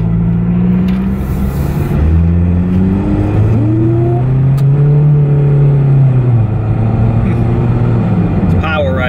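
A Toyota MR2 SW20 engine accelerating from inside the car, a loud steady drone whose pitch climbs and sweeps through the gears, continuous close up with no clear talk.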